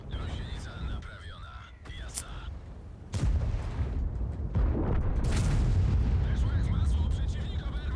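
Heavy tank cannon fire and shell impacts boom around a player's tank on a hill in World of Tanks, heavy rumbling blasts over engine noise and game sound effects, with a player talking throughout.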